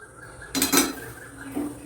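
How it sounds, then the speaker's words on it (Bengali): Semolina dry-roasting in a pan, with a sudden short clatter of a metal utensil scraping and knocking the pan, then a softer clink a second later. "এখানে সুজি ভাজছি আলু সুজি বানাবো"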